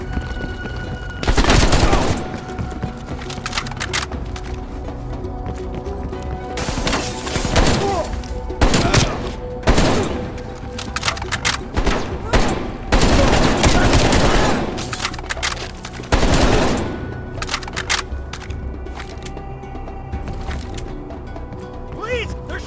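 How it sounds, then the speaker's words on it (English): Bursts of automatic gunfire in Call of Duty: Black Ops Cold War, loud and close, with repeated volleys and short pauses through a firefight in a building, mixed with mechanical clatter, booms and voices shouting. "They're shooting at us!"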